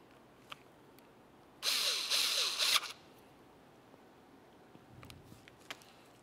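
A power tool runs in one loud, steady burst of about a second to tighten a mounting bolt on a transfer case shift motor for a 2004-2010 BMW X3, followed by faint clicks of handling.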